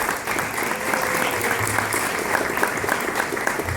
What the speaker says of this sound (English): if y'all give her a round of applause as well